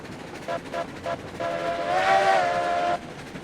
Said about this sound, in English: And a train whistle that is terrifying.